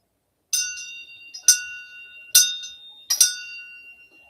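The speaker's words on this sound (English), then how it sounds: "the shang bell" Shang bell struck in a Tibetan Chod practice, four bright metallic clashes about a second apart, each ringing and shimmering as it decays in quiet surroundings.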